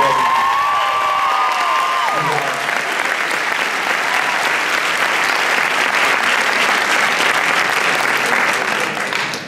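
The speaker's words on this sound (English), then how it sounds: "I think we should give them all a round of applause one time" Loud, sustained applause and cheering from a crowd celebrating the class of 2020, with whoops and shouts rising over steady clapping throughout.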